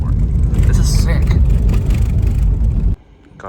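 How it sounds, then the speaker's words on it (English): A Nissan R34 GTR drives across sand, its engine a loud, steady close drone with rumbling road noise that drops away sharply near the end, voices talking over it. "Alright, GTR goes off-roading, let's go. Driving on sand, watch out for people."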